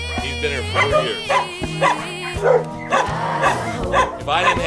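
A dog at a desert animal refuge barks repeatedly in a steady run of close, loud woofs with some whimpering yips mixed in, while a person talks over it.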